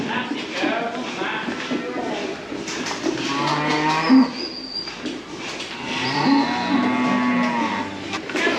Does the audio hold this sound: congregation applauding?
no